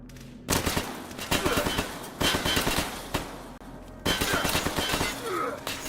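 Rapid bursts of automatic gunfire and bullet impacts in a shooter video game at a power plant, dense rattling volleys that stop and restart several times, loud and close, with a voice faintly talking over it.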